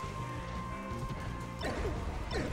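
An up smash attack lands in Super Smash Bros. Melee during a tournament singles match: a sharp crash-like hit over steady game sound, followed by a couple of quick swishing effects.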